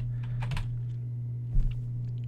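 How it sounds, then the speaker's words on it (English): Computer keyboard typing, a few quick soft clicks in two short bursts over a steady low electrical hum, with no speech. "you just start typing"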